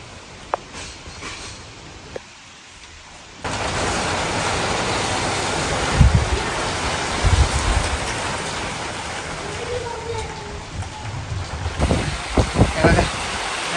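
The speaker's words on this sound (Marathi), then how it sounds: "वारा पाऊस एकदम." Heavy monsoon downpour with strong wind, heard from a veranda during a thunderstorm: a sudden loud onset of dense roaring rain, with gusts and splashing bursts, and a voice talking faintly in places.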